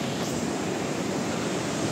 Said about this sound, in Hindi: झरने से जो पानी आ रहा है बहता हुआ, वो दिखाता हूँ मैं।